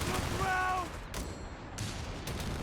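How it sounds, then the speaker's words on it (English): A grenade assault in Company of Heroes 3, with several sharp, fairly loud blasts spaced about half a second apart in the latter half, following a brief tonal unit call at the start. "It's a decent grenade assault."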